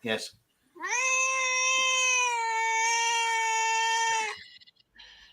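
A cat lets out one long, drawn-out caterwauling meow lasting several seconds, loud and close, with a brief voice just before and faint sounds after.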